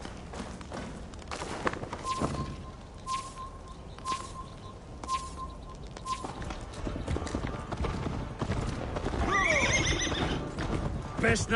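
Horse hooves clop steadily, a horse whinnies, and birds chirp faintly in the background, from a horse ride in the video game Assassin's Creed: Valhalla.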